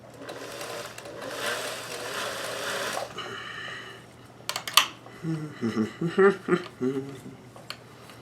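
A Singer 431G sewing machine stitches lace onto a bodice in short bursts of rapid mechanical whirring, close and moderately quiet, with someone talking between and over the runs of stitching.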